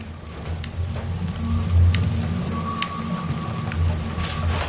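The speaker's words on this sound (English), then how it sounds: "I do like the rain." Rain falling steadily in a video game, a dense constant patter with low rumbling thunder swelling and fading beneath it, plus a faint steady tone in the background.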